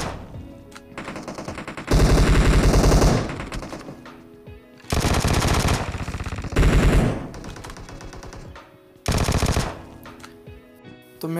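Vector SMG fire in PUBG Mobile on the Livik map: four loud, rapid automatic bursts, each lasting about a second, with quieter game ambience and footsteps-like rustle between them.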